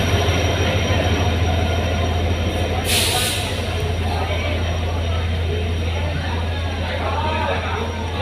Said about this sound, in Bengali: গৌহাটি এক্সপ্রেস জামিরা রেল স্টেশনে প্রবেশ করছে।